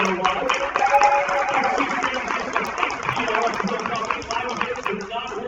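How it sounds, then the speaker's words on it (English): Audience at a meeting breaking into applause, a dense, continuous rattle of many hands clapping at close range, with voices mixed in underneath. "Give him a big round of applause."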